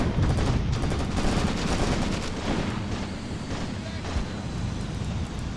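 Soldiers exchange rapid gunfire in a WW2 winter battle video game, sounding as dense crackling bursts and scattered shots over wind-like noise throughout, with some voice activity mixed in.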